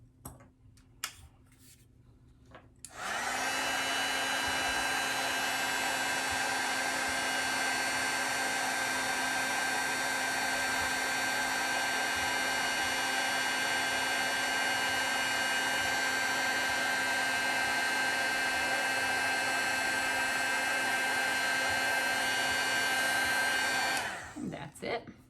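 A heat tool blasts a steady, loud stream of hot air for about twenty seconds to set embossing on a handmade Christmas card, starting and stopping abruptly and running with no one talking.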